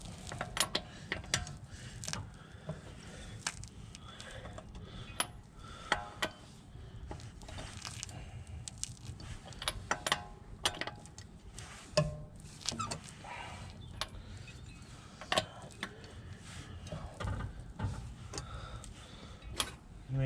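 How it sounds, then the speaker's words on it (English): Quiet, irregular metallic clicks and ratcheting from a breaker bar undoing the wheel bolts on a Volvo P2 car (S60, S80, V70, XC70), with scattered sharp ticks over a low background rumble throughout. "undo the wheel bolts"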